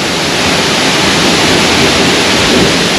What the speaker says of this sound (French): la cascade de l'autre côté.